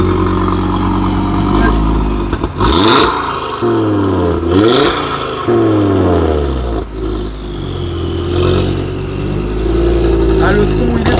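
An Audi RS3 engine revs and pulls off, with repeated rising and falling blips and a throaty burble, loud and close, with voices now and then.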